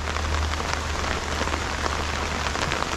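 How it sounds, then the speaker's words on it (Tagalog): Heavy rain pours steadily during stormy weather, a dense, even hiss of drops drumming on a surface nearby, with a low hum underneath and no voices. "Grabe itong ulan ngayon no?"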